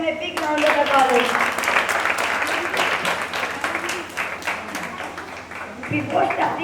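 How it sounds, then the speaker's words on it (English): An audience at a summer camp play breaks into a burst of applause, dense clapping filling the room while a voice speaks over it. "Please give them a big round of applause"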